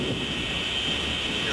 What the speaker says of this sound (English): we're going to be experiencing some turbulence and flying through a small thunderstorm